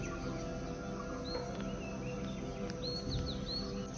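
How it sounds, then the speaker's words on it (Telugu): Faint, scattered bird chirps over a steady outdoor hum, heard from a hotel balcony in Kerala, a few short high calls coming and going in the distance. "మీకు ఇక్కడ బ్యాక్గ్రౌండ్లో వినిపిస్తున్నటువంటి ఆ పక్షుల యొక్క సంభాషణ చూడండి"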